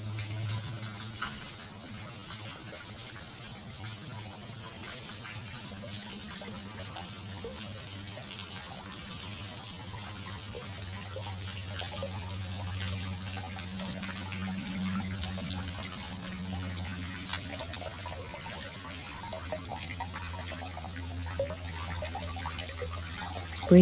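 Flowing water in a natural setting gives a steady, soft rushing wash that stays even and continuous for the whole stretch, with no voices.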